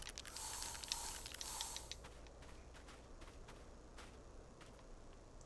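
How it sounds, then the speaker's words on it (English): An aerosol spray can is sprayed into a machine to help start it, a faint hissing burst near the start followed by quiet shuffling and mechanical clicks. "So this will hopefully get this thing started. Spray some up there."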